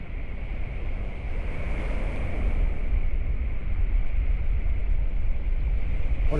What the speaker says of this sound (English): Water's really rough right now.